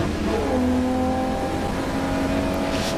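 Pre-93 touring cars racing at Snetterton, including a Ford Fiesta, with engines droning loud and close. A car revs and holds a strained pitch over steady track noise for a few seconds.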